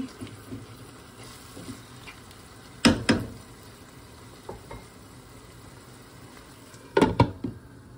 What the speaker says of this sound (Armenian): Մի հատ լավ կխառնեմ ու կծածկեմ առաջին, մինչև լոլիկը լավ եփվի։